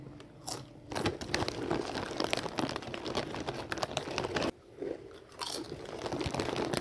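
Close, loud crunching and chewing of Lay's wafer-style Sizzling Hot potato chips, with dense crackly bites running almost nonstop and a brief pause midway.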